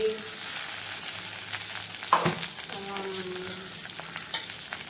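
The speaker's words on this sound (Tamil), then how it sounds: "தேவையான உப்பு உப்பு போட்டால் சீக்கிரம் வதங்கிடும் அதனால் நல்லா நல்லா வதங்கட்டும்" Onions, green chilies, curry leaves and tomatoes sauté in a pan with a steady, close sizzle, broken by a few clinks and scrapes of stirring.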